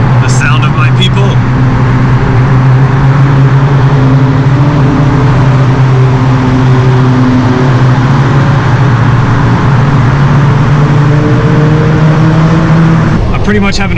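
A Suzuki Swift's engine revs hard at full throttle on Tokyo streets at night, a loud, sustained drone with rising harmonic pitch sweeps, close and continuous, with other cars around.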